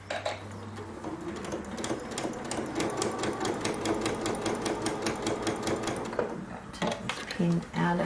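A Janome MC15000 embroidery and sewing machine stitches fabric in a rapid, rhythmic mechanical chatter that runs for several seconds, then pauses for a few quieter clicks and handling sounds.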